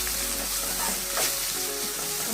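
Ingredients for vada curry sauté in a hot pan, giving a steady, close sizzle and frying hiss with soft stirring, no voices.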